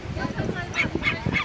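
A small five-month-old puppy on a beach gives a few quick yips and barks, short and fairly close, mixed with people talking nearby.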